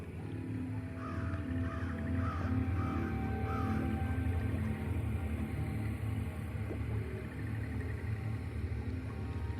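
A crow caws several times in the video game Banishers: Ghosts of New Eden, a short run of harsh calls early on over a steady low ambient rumble, with no talk.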